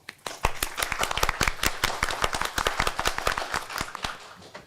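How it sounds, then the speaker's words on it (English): Audience in a city council meeting room clapping together on request, sharp individual claps overlapping into a brisk, fairly loud burst that runs the whole time. "can everybody just clap for me?"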